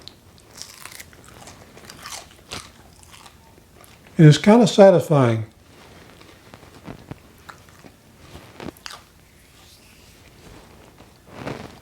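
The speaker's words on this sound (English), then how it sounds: "it's a nice crunchy snack" Griddle-fried cheese crisps cooked on a cast iron griddle are bitten and crunched up close in a short burst of loud crackly chewing, with a person talking before and after.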